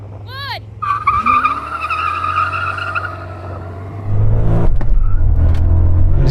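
Two BMW M5s from different generations, including an E39, launch hard off the line in a drag race, tires skidding and squealing over loud revving engines, with a surge of louder engine roar near the end.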